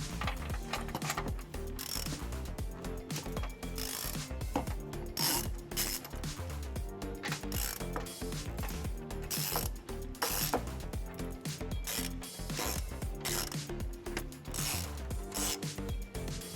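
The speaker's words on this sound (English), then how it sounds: "We'll use a 21mm socket with a swivel head that will give us better access to these bolts." Rapid, continuous clicking of a ratchet wrench with a 21mm swivel-head socket working bolts loose on a Jeep Grand Cherokee during trailer hitch installation, steady mechanical ticking up close with no talking.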